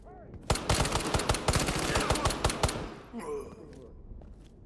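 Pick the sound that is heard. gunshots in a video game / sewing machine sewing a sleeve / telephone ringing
gunshots in a video game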